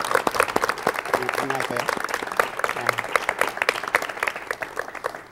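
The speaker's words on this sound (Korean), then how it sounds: "박수로 맞이해 주십시오" Studio audience applause on a 1986 KBS talk show welcoming a designer, brisk dense clapping running the whole five seconds, with a brief spoken greeting heard over it.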